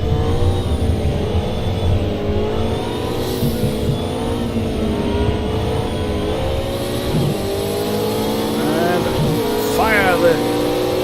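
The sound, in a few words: Porsche car engine revving, from a racing video game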